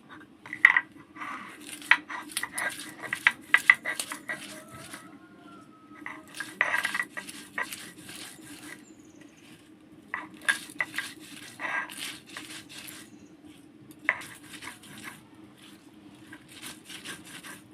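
Fried onion and garlic are ground into a paste for a crab dish, with bursts of rhythmic scraping and clinking in groups separated by short pauses over a faint steady hum.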